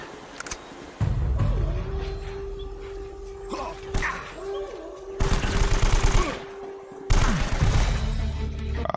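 Rapid bursts of automatic gunfire from the video game Uncharted: Drake's Fortune Remastered crackle repeatedly, with a sustained humming tone running underneath and a voice briefly speaking early on.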